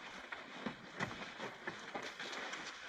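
A steam train running on the rails, with a rolling rumble and irregular clacking of wheels over track joints, moderately close and fairly quiet.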